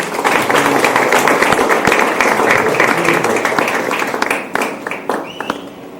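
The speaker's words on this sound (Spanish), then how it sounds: "Así que le vamos a dar un fuerte aplauso" Loud applause from an audience at a panel talk on Islam in El Salvador, close, dense clapping that thins out toward the end into a few scattered claps.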